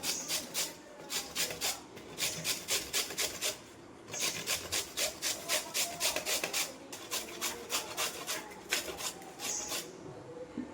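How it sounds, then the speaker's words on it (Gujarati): Raw mango is rubbed against a grater in quick rhythmic bursts of rasping strokes, each run of scrapes broken by short pauses, close and fairly soft. "તો અત્યારે હું કેરી છીણું છું."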